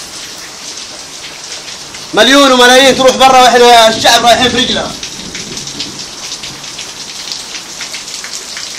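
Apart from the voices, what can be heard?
heavy rain falling outside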